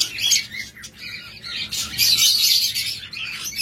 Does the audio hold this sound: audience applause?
no